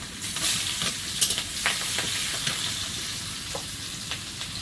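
Chopped onion and black cumin (kalo jeera) fry in hot oil, a close steady sizzle broken by scraping stirs and small pops from start to finish.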